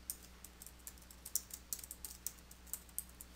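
A name is typed on a computer keyboard in QuickBooks Desktop Pro 2019, a quick patter of light key clicks, quiet and close over faint hiss, with no voice.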